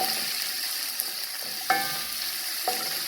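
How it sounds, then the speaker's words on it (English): Chopped garlic sautes in a hot pan with a steady, close sizzle and crackle, broken by a few soft clinks of a utensil stirring, while fish in coconut sauce is being cooked. "So I'm going to saute these nicely."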